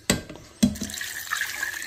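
Water is poured from a glass into a pot of oil for Spanish-style milkfish, with two sharp splashing bursts followed by a softer trickle close to the microphone.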